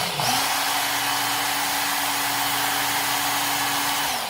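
A Ken Onion Work Sharp belt sharpener runs steadily while a recurve knife is sharpened on the belt, giving a loud, even motor whir with a constant hum and no talk.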